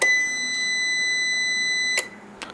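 A Zebronics ZEB-U725 UPS being switched on gives a long steady electronic beep, then a couple of short clicks and a faint chirp, close and clear in a quiet room.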